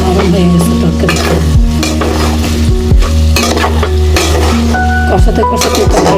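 Shing fish curry with green banana stirred and frying in a pan, with steady loud sizzling throughout and repeated scraping strokes of a spoon against the pan.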